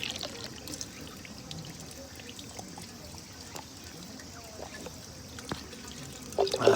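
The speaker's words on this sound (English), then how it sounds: "You can fill your thing from this fountain." Water pours steadily from a park drinking fountain, a soft continuous trickle and splash heard close up against faint outdoor ambience, swelling briefly louder at the very end.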